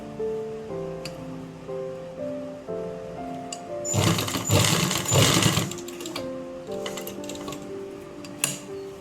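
A sewing machine stitches elastic onto trousers, running in a dense, loud mechanical burst midway, framed by quieter intermittent needle ticks and faint background tones.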